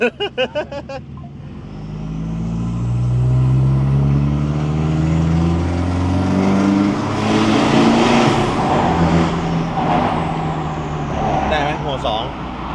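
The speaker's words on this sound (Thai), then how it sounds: "รีบเปลี่ยนเกียร์จัง" A car with a 2.5 turbo engine accelerates hard through the gears, its loud engine note rising in sweeping pitch climbs broken by quick shifts, heard from nearby with people talking throughout.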